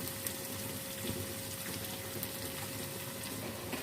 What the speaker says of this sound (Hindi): आधा कप पानी ऐड कर देते हैं।